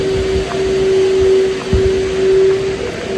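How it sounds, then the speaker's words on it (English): A vacuum cleaner runs in a church near an altar, a loud steady motor drone with a sustained whine that holds nearly constant, swelling slightly as it passes, with no talking. "You can hear some vacuum pass by an altar."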